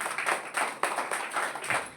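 An audience claps together on request, a quick rhythmic patter of hands in steady, evenly spaced bursts, fairly close and uninterrupted by speech.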